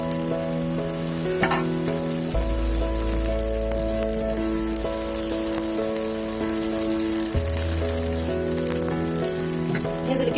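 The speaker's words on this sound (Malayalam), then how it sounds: "നമുക്ക് മാവ് ഒഴിക്കാം" Carrot dosa batter sizzles steadily on a hot pan for Kerala-style dosa, a close continuous frying hiss with soft crackle, alongside a sustained musical drone in the background.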